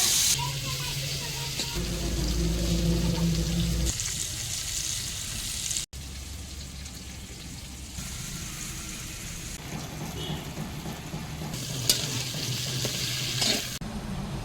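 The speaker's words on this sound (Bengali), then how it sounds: "এবার আলু ভেজে নেব।" Potatoes frying in hot oil in a pan, a continuous close crackling sizzle with occasional stirring scrapes and shifts in intensity, with a voice faintly present at times.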